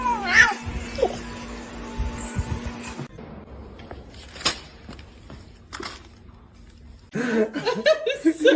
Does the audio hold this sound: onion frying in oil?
no